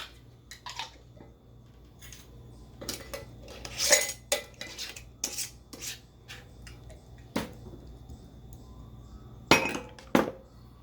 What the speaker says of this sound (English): Again, we're going to give it another stir. Put our lid on.